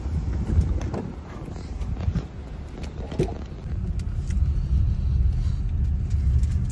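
A Renault QM6 LPG car cruising on a highway in freezing winter, a steady low road and engine rumble mixed with wind noise, constant and close, with no one speaking.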